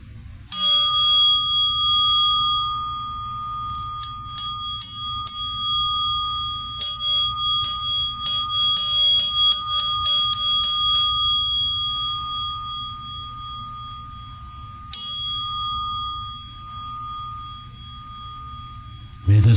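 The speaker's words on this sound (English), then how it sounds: "with a Buddhist meditation ringing" A bright Buddhist meditation bell rings at a Las Vegas City Council meeting with a long sustained tone, struck several times in quick succession, then again later, each strike leaving a lingering hum.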